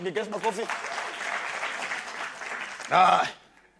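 Studio audience applause and cheering on the live TV talk show Dr Ofweneke Tonight, rising after a host's brief speech and running steadily, then a short loud shout near the end before fading.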